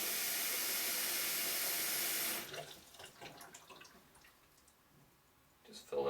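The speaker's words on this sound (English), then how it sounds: "Just fill it up with water" Tap water gushes loudly into a film developing tank while washing 120 film, a dense steady rush that cuts off after about two and a half seconds, followed by quieter sloshing and handling clicks, with a voice speaking faintly.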